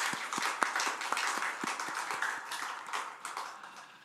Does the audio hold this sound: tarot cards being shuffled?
no